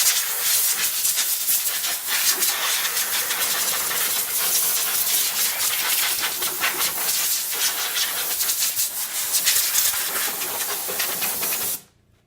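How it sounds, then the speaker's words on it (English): Compressed air hisses steadily as it blows dust off a power steering pump on a Dodge Neon, a loud, continuous broadband rush lasting about twelve seconds before cutting off abruptly. "if you've got compressed air handy, definitely just go around the pump and dust everything off"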